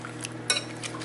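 A spoon scrapes and clinks in a pan while stirring meat sauce with spicy V8 juice for spaghetti squash, a few quick, close scrapes over a brief moment.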